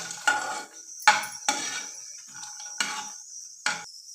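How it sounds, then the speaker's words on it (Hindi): Fox nuts (makhana) being roasted in ghee in a pan, heard as a series of sharp stirring clinks and rattles against the pan at irregular intervals, close and fairly quiet, with no one speaking. "और इसी में मखाने को डाल के भून लेंगे।"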